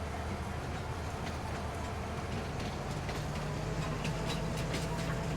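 A train rolls past steadily in the Farming Simulator video game, a continuous rumbling rail noise with faint clicking, heard alone without talk.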